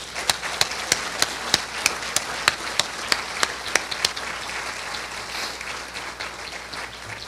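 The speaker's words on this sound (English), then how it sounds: "Let's give our Unified School District a huge round of applause and all the teachers that do great work." Applause from an audience at an educational forum, a steady wash of many hands with a few sharp, evenly spaced louder claps standing out near the microphone for the first four seconds.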